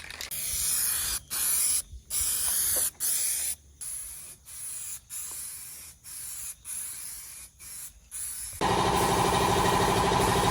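Bursts of aerosol-style spraying as 2-in-1 primer goes onto a wrecked 2020 Nissan Altima, about a dozen short hissing passes with pauses, ending in one longer continuous spray.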